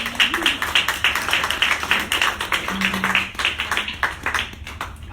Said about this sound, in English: Oh, can we clap for you, though?